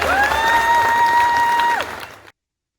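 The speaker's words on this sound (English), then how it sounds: "Big round of applause for that" Audience applause at a live talk with actor David Patrick Kelly: a steady wash of clapping with a sustained whistling tone above it, dying away after about two seconds.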